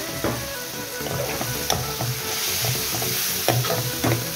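Spices stirred and fried with beef bones in a pot for a Sylheti sweet gourd dish, a steady close sizzle with intermittent scraping stir strokes and a few sharper clinks, no talk.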